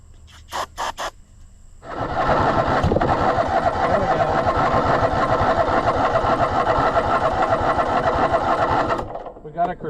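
A zero turn mower engine gets a couple of brief clicks, then cranks loudly and sputters roughly for about seven seconds before stopping, with a voice heard at the start and end.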